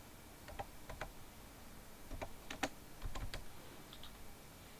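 Someone types on a computer keyboard, giving a short, close sequence of crisp tapping keystrokes in small uneven clusters over a quiet background, with no talking.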